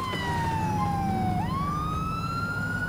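An ambulance siren in the video game GTA IV wails continuously, its pitch dipping and then climbing again, over a steady low road rumble.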